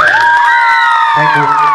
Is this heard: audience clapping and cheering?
yes